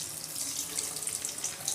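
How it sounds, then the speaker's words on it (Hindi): Spiced, coated mutton chops fry in preheated oil over a medium-low flame, giving a steady, close hiss and fine crackling sizzle with no voices. "मज़ेदार सी आवाज़ आ रही है आपको चॉप फ्राई होने की"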